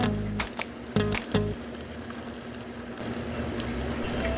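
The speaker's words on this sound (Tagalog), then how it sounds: "Pakinggan nyo kumukulo yung mantika." Cooking oil heats in a toy kitchen cooker while a hot dog fries. A few soft knocks come first, then a faint, continuous bubbling hiss under a low electrical hum.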